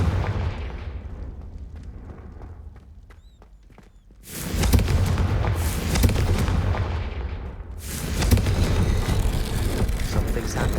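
A Confringo fire spell in Hogwarts Legacy erupts into loud, sustained crackling blasts and rumbling bursts after a quieter stretch, with a second surge of explosive noise near the end.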